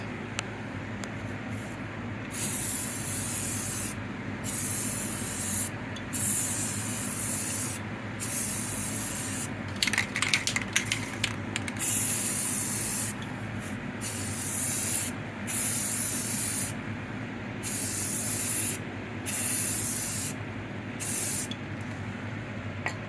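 Primer coat sprayed from a spray can or gun in repeated bursts, each a steady hiss lasting a second or two with brief pauses between passes, close and fairly loud, with faint rubbing noises.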